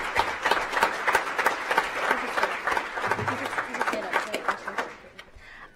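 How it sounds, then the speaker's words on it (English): Applause and clapping from an audience at a regular school board meeting, greeting a newly introduced board member; a steady patter of many hands that fades toward the end, with some murmured chatter underneath. "If we could give him a round of applause"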